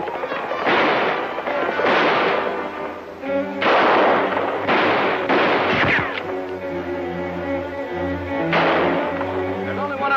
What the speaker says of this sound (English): There's only one of them shooting at us.